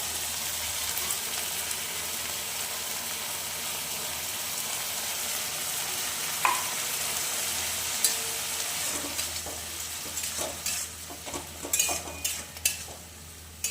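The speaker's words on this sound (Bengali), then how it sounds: "তো এই দেখো, এটা একটু ভেজে নিই।" Food frying in a pan with a constant sizzle, then a utensil stirring and scraping the pan in scattered clicks and knocks. Nobody speaks.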